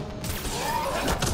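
A combo detonation goes off in the sci-fi shooter Mass Effect Andromeda, played on a biotic build: a loud, dense crashing burst lasting the whole moment amid busy battle noise.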